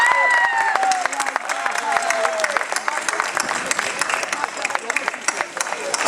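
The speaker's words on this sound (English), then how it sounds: "a big round of applause." An audience at a civic thank-you ceremony breaks into dense applause, many hands clapping steadily at moderate distance, while voices call and talk over the start.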